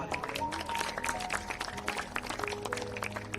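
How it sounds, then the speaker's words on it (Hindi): A church congregation claps together in a dense, uneven burst of many hands. The clapping is fairly soft and mixed with some faint voices in the room. "यीशु मसीह के नाम में ताली मारे"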